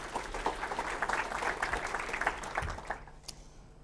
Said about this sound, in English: Big round of applause for Glenn, by the way, folks.